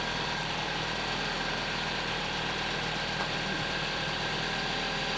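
A 2007 Ford Focus 1.6 Ti's engine idles after nearly three years laid up, a constant, moderately quiet running drone with slight vibration and no voices.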